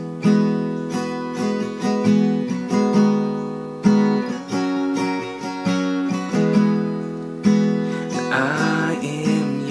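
Acoustic guitar with a capo strums a bridge chord progression for a song, steady rhythmic chords played close and clear, alone without voices, with brighter strums near the end.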